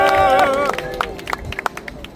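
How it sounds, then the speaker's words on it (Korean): Scattered claps from a rally audience of protesters calling for an election-fraud investigation, starting as a voice trails off and then continuing as sparse, uneven individual claps. "다시 한번 더 힘내라고 큰 박수"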